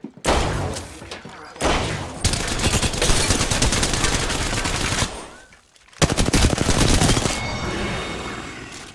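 Gunfire in the battle royale shooter Apex Legends, long loud rapid automatic bursts close up, broken by a brief pause before another sustained stream of shots.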